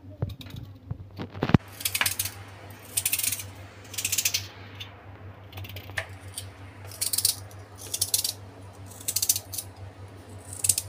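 A knife slices lotus stem for a vegetable dish, producing repeated bursts of crisp cutting and tapping against a board in rhythmic clusters, close and clear over a low steady hum.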